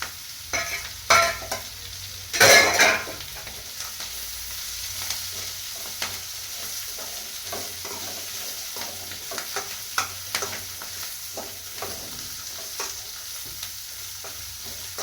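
Roasted chillies are tipped into a frying pan for a pirandai chutney, giving a couple of sharp clattering bursts early on, then repeated scraping stirs and light ticks over a faint, steady sizzle, with no voices.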